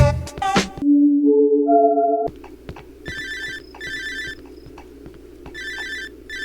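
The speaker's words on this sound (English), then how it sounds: "Is that my phone?" Phone ringing in the horror video game Cry of Fear: a rising electronic tone sequence, then repeated bright ringtone bursts in a steady pattern, loud and clear.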